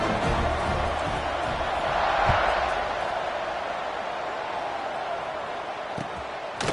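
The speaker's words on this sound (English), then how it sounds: "this crowd is feeling themselves after that last drive" A college football stadium crowd at Boston College versus UCF fills the air with a broad, steady roar that swells briefly, with a few scattered thuds, heard from a distance.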